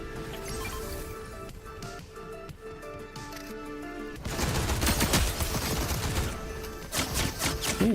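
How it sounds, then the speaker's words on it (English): Bursts of rapid gunfire ring out in a Fortnite match, scattered sharp shots at first over game music, then dense overlapping volleys crackling loudly through the second half. "someone else is shooting us as well."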